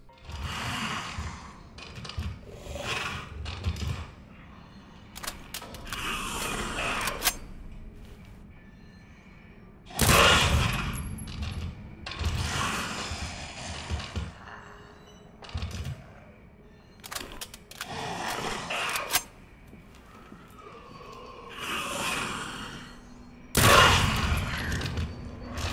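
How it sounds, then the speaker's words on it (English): Submachine gun reload in Resident Evil 2 Remake: a series of sharp mechanical clicks and clacks from magazine and bolt handling, loud and close, recurring in bursts over game ambience with no talk. "So I went back down the same hallway and reloaded the SMG."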